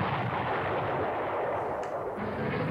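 Continuous dense rumble of artillery fire in the World War II strategy game Panzer Corps on the Moscow 1941 front, a steady booming wash that stays loud throughout, with no distinct separate shots.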